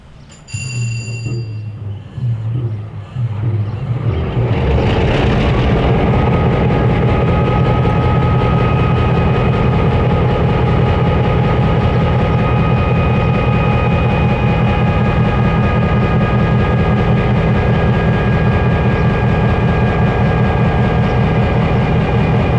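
A GP9 diesel locomotive, number 1758, leads a train south under overcast skies; its heavy engine rumble builds over the first few seconds, then holds loud, steady and close with a sustained tonal whine, and no talking.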